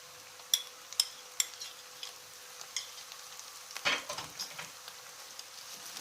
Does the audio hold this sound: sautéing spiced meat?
yes